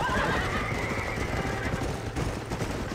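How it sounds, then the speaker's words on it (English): Horses neigh and whinny with panicked cries in the Red Dead Redemption video game, over a continuous bed of hooves and distant gunfire. "The horses are freaking out."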